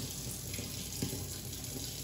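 Tap water runs steadily into a sink, a constant close hiss and splash with no pauses and no voices.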